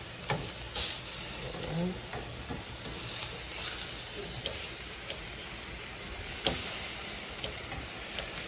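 Meat sears in a hot frying pan with a steady, moderate sizzle and hiss throughout, broken by a few soft clatters and one brief spoken word.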